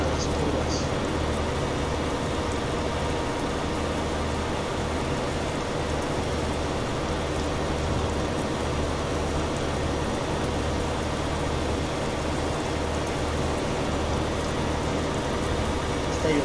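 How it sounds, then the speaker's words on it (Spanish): Steady rain drums continuously on a surface with a constant low rumble beneath, an unbroken wash of noise throughout. "Está lloviendo."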